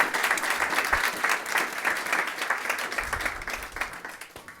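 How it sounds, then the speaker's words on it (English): A seminar audience applauds team representatives at a design center, dense and steady clapping that holds at an even level before thinning slightly toward the end. "Let's give them a big round of applause."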